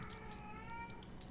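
A cat gives a brief, faint meow with a drawn-out tonal quality in a quiet room, lasting barely over a second.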